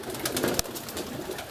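Pigeons coo softly in a garden setting, a low murmuring call under steady outdoor noise, with a sharp click or knock partway through.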